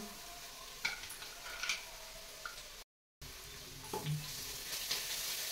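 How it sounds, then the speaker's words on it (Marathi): Garlic, ginger and red chili paste hitting a pan of onions that have been frying for about five minutes, giving a steady low sizzle with occasional stirring scrapes and clicks, close and fairly quiet, with no voices. "हा कांदा थोडासा 5 मिनिट भाजून घेतला की इथं मी लसूण, आलं आणि लाल मिरची बारीक मिक्सरला वाटून घेतली, ती घालूया."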